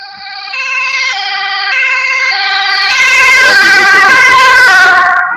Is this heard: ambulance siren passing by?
yes